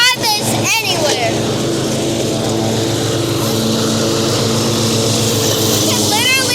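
A ten-year-old riding lawn mower engine runs steadily and loudly close by, a continuous droning rumble with a voice talking over it.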